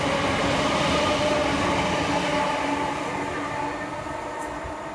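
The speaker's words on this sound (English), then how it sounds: "Final train for today's video is going to be the 1133 C2C service to Shoeburyness from London Liverpool Street" A C2C passenger train on the London, Tilbury and Southend line runs into Thorpe Bay station, heard close and loud as a steady roar of wheels and motors that fades slightly toward the end.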